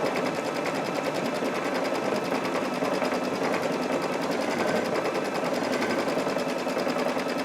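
A sewing machine stitches out a decorative sashing pattern for a quilt, its rapid needle rhythm running close and steady at an even pace for the whole stretch, with no voices.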